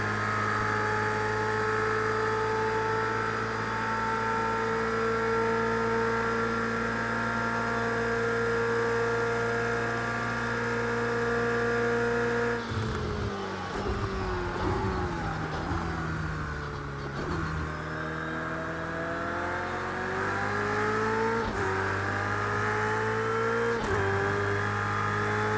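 Race car engines droning steadily at Daytona in Project Cars 2, a sustained high engine tone that shifts pitch as the car accelerates and lifts midway, with no talk.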